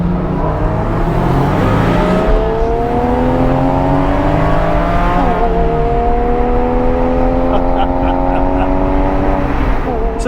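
Supercharged Porsche 911 (997.1 C4S, four-wheel drive) making 723 horsepower at the wheels roars loudly as it accelerates, its engine note climbing steadily through the gears with a rising, whining pitch, close and continuous throughout.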